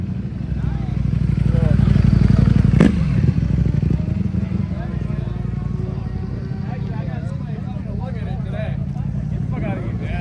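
Superbike motorcycles at a Michigan meet-up, engines rumbling and idling loudly nearby amid crowd noise, with people talking over the steady mechanical drone.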